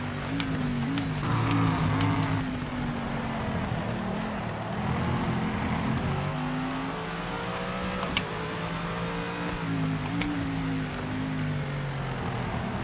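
Race cars, including a Mustang, roaring through a racing video game, with sustained engine drones rising and falling in pitch as they shift and accelerate, loud and continuous throughout.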